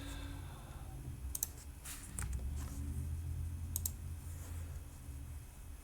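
A computer keyboard tapped during code copy-pasting, giving a few scattered quick key clicks in small clusters over a low steady background hum, close and without talk.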